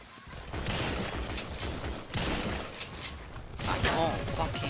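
Rapid bursts of gunfire in the video game GunZ: The Duel crackle in repeated volleys, loud and close, with a player's voice talking between shots.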